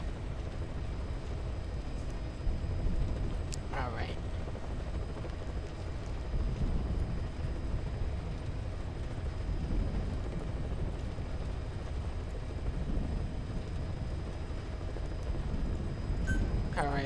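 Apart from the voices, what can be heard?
helicopter interior in the video game Metal Gear Solid V: Ground Zeroes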